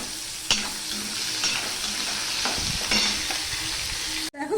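Spices tempering in hot oil as phoron for a no-onion, no-garlic niramish vegetable dish, a steady bright sizzle with a few sharp stirring knocks, cut off abruptly near the end.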